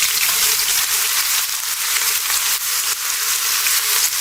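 Garlic and ginger paste frying in a karahi for achari chicken, a steady, loud, broadband sizzle with no break, close up and alone.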